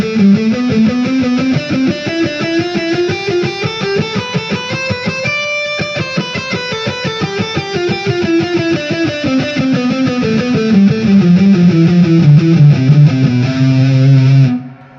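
Fast distorted electric guitar runs through a scale pattern, rapid evenly picked notes climbing and descending in a steady stream, loud and alone, ending on a held low note.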